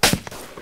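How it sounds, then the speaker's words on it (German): A single sharp SKS rifle shot cracks out in the video game DayZ Standalone, followed by a short echoing tail and a faint second report. "Das ist aber ein SKS-Schuss."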